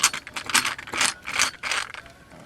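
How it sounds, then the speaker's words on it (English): A screwdriver turns out the screws holding the IEC connector on a dead power supply, giving a series of short ratcheting, grinding bursts with brief pauses between turns, close and fairly clear. "And we'll take out the IEC connector."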